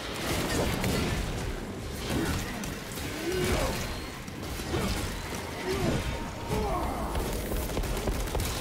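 Gunfire in the video game Warhammer 40k: Space Marine 2, a rapid clatter of shots and crashing impacts that rise and fall in bursts across the stretch, with battle noise underneath.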